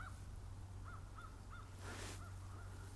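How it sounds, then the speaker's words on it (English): Crows caw in a repeated series of short, evenly spaced calls at a moderate distance, with a brief louder rush of noise partway through and a steady low hum underneath. "I hear lots of crows."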